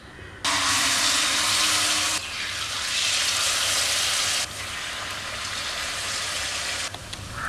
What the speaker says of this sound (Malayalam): അങ്ങനെ 2 സൈഡും തിരിച്ച് മറിച്ചുമൊക്കെ ഇട്ട് ഫ്രൈ ആക്കി എടുക്കുക